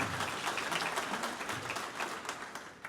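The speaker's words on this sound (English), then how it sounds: "please give him a round of applause" Debate audience at an Orange County Commission District 1 event applauds, a steady spread of clapping that carries on through the whole stretch at moderate loudness, with no talking over it.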